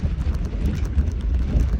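Steady low roar of wind buffeting the microphone at an alpine coaster in Scotland, rumbling without pause throughout.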